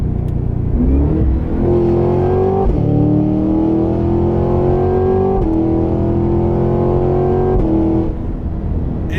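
A loud supercharged engine revs hard as a 2023 Cadillac Escalade-V SUV accelerates, pitch climbing through several gear shifts with brief dips between them, close and continuous.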